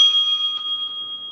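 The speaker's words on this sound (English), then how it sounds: "The timekeeper will ring the bell twice" A debate timekeeper's bell gives a bright, clear ring that sustains and slowly fades, with a faint second tap partway through, alone in a quiet room.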